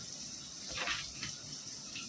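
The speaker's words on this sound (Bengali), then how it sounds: "আর একটু বাটতে হবে, তার জন্য আমি আরেকটু জল দেবো এর মধ্যে" Water is poured into a mixer grinder jar holding partly ground poppy seeds, a short soft splash and trickle up close, rising briefly then fading over a faint background hum.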